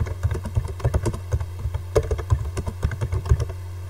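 Rapid, close clicking of computer keyboard keys as HTML code is typed, an irregular run of crisp taps continuing steadily with no voices.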